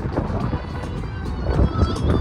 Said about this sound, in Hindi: हवा तो मस्त चल रही है ना, मस्त हवा चल रही